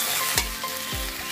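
A fish head drops into hot oil in a pan for muri ghonto, setting off a loud, continuous sizzle close by, with a couple of dull thuds as it settles.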